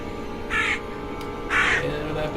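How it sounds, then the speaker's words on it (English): Crows caw twice in the horror video game The Last Door, two distinct, fairly close calls about a second apart over a low, steady ambient background. "Who let the freaking birds in?"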